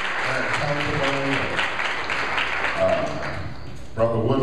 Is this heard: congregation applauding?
yes